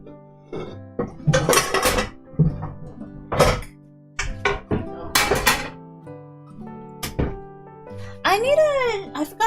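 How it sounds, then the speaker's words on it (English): Pots and pans bang and clatter in a home kitchen while cooking lobster, with sharp, irregular knocks and thunks scattered among frequent talk, ending in a ringing metallic clang. "Ignore the banging pots and pans for a sec."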